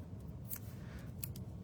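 A few short, crisp scissor snips cut through paper for a handmade card, close and quiet over low background hum, with nobody speaking.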